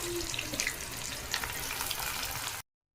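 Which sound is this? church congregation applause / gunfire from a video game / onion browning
onion browning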